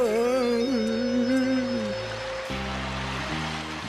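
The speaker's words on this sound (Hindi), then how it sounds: "पापा पानी यहाँ से भी अंदर आ रहा है।" Water rushes and gushes steadily into an enclosed space in an animated cartoon, a continuous watery wash under a child's frightened, tonal speaking voice and a brief descending tone.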